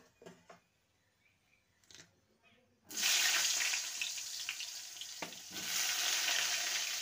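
Eggplant pieces drop into hot oil on a high flame, bursting into a loud, sustained sizzle after a few quiet clinks, with a brief clatter partway through as the frying continues.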